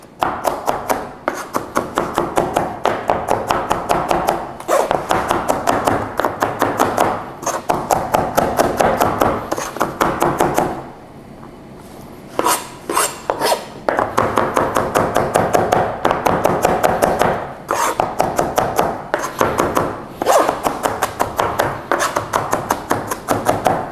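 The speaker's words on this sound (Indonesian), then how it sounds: "kita cincang lagi." Rapid, steady knife chopping on a cutting board as onion is minced finely for Chinese-style seafood fried rice, loud and close, with one brief pause midway before the fast rhythmic chopping resumes.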